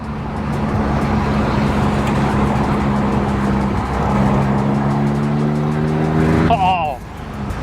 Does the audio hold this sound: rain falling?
no